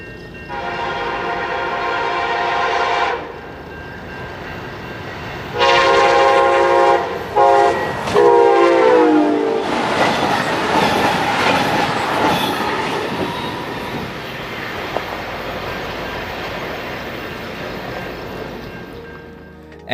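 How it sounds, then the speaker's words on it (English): A train horn blares in long blasts as an Amtrak Wolverine passenger train roars past at speed on the line to Chicago, wheels clattering and rumbling loudly before fading into a steady rush. "here comes one of Amtrak's Wolverine service trains racing through on the Ennis Chicago line"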